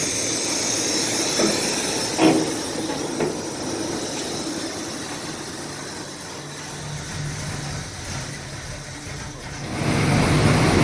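A G-Body station wagon, back on the road after 24 years with its choke blocked open, runs steadily as it drives off, a continuous engine rumble and hiss with a brief knock early on and the level swelling near the end.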